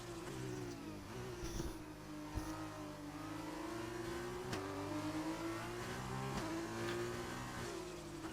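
A race car engine in an F2 racing video game at Hungary, accelerating and revving steadily through gear changes, a loud continuous drone with shifting pitch and no talk over it.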